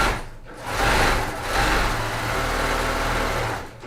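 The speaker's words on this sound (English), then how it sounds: "I'm going to sew it on both ends and save myself some time." A sewing machine stitches quilting fabric in short runs, a close mechanical whirring hum that starts, pauses briefly and then runs steadily for a few seconds, with no talking.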